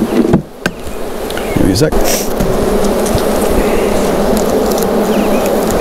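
Package honey bees buzz loudly and continuously as they are shaken into a hive, with a few sharp knocks early on and a person speaking briefly over the swarm.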